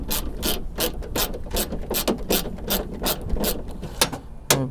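A hand ratchet loosens bolts on a Honda Accord door during a window regulator repair, clicking in quick, regular bursts of sharp metallic ticks, close and steady, with a few louder clacks near the end.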